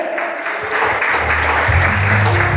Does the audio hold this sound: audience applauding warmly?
yes